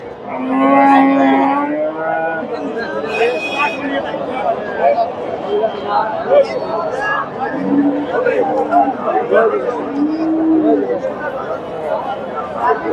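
Several Friesian dairy cows moo loudly at close range amid the chatter of a crowd at a cattle market in Bogura, with people talking throughout.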